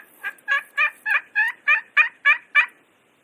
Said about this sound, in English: just move that call back and forth.